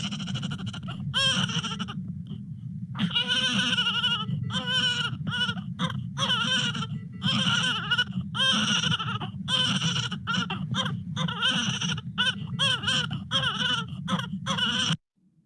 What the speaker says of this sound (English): That's what an infant's cry sounds like.